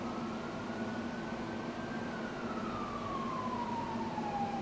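An emergency vehicle siren wails outdoors at moderate distance, one long sweeping tone that rises, holds and then slowly falls over steady low background noise.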